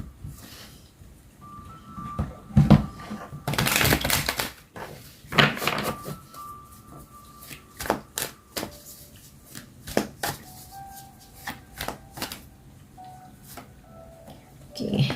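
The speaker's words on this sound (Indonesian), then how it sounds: "aku coba tarik dulu semua kartunya" Tarot cards being drawn and handled on a table, close papery shuffles, riffles and slaps in irregular bursts with quiet gaps between.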